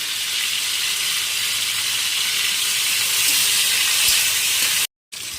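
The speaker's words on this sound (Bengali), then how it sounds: "এইবার চিংড়ি মাছটা ভেজে নিই" Prawns fry in a pan with a steady, dense hiss of hot oil that holds an even level throughout, close and without voices, cutting out briefly near the end.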